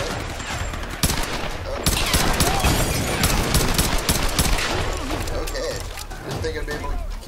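Bursts of gunfire fill a firefight in the video game Tomb Raider, dense, loud and continuous with sharp repeated shots and clatter throughout.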